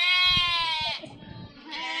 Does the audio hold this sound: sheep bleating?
yes